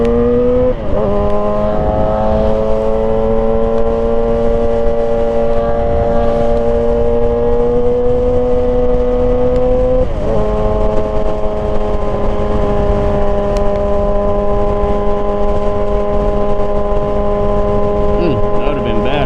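A Suzuki GSX-R 1000cc motorcycle engine drones loud and close, its pitch climbing through steady pulls with a couple of abrupt gear shifts, and wind noise mixed underneath.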